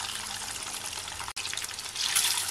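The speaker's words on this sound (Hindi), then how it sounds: "बस हल्का कलर चेंज हो जाने तक हम अंडे को फ्राई करेंगे।" Eggs fry in oil with Kashmiri red chili powder over a medium-high gas flame, giving a steady, fairly soft sizzling hiss that briefly cuts out once, with no voices.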